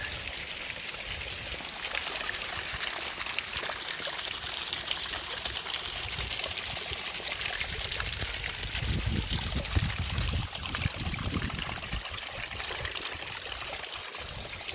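Water from Lower Yosemite Falls rushes and splashes continuously nearby, a steady loud gushing that holds throughout without pause.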